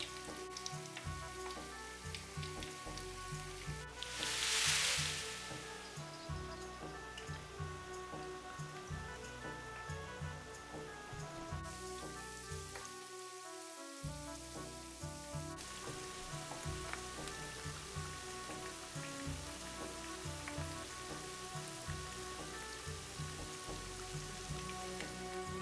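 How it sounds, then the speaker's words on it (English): Chinese pakora mixture fries in hot oil with a continuous, rain-like crackle and hiss, heard at a moderate level beneath steady background music. "you want to start adding the Chinese pakora mixture into the oil. So place it into the oil like Mama Bear is to fry it up"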